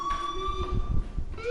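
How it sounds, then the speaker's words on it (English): A school fire alarm in the video game Life Is Strange, a steady electronic tone ringing continuously at moderate volume with low rumbling noise underneath. "Hey, do you hear that fire alarm?"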